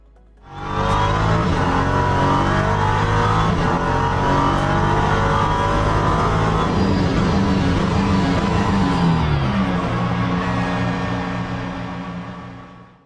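A Ligier LMP3 prototype race car in the sim racing game Le Mans Ultimate at Silverstone, its engine loud and sustained through upshifts and downshifts, revving and braking, then fading out.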